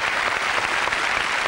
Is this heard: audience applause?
yes